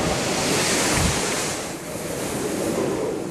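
Hurricane Omar's eyewall is coming ashore, and the clip is a loud, roaring rush of wind and crashing surf with heavy buffeting on the microphone, easing slightly partway through.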